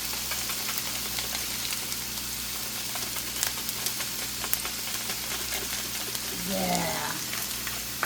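A whole onion sizzling in lard and olive oil, a steady crackling hiss under a low hum with a brief voice near the end.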